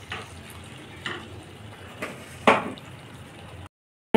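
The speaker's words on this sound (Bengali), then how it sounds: "আবার একটু নাড়িয়ে নিচ্ছি।" Pointed gourd frying in spiced oil is stirred in a pan: a low steady sizzle with four scraping strokes at roughly one-second intervals, then sudden silence.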